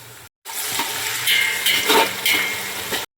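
Tomato added to onions fried pink in a pan with salt, for a Kolhapuri-style village goat mutton curry, giving a loud close sizzle and crackle after a brief silence, with stirring swells through the frying.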